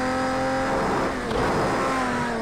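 Race car engine in the racing game Project Cars 2, a loud sustained high-pitched drone as the car drives at speed, with a brief shift in tone midway and no talk.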